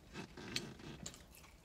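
Crunchy chewing of a Fortifx pretzel-flavored coated protein bar with granola and crisp rice pieces, close and fairly quiet, with irregular bites and crackles running through the short stretch.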